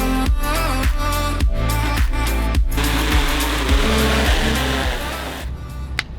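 A drone near Niagara Falls in Ontario spinning up and lifting off, with a loud steady motor whine, pulsing at first, that fades as it climbs away.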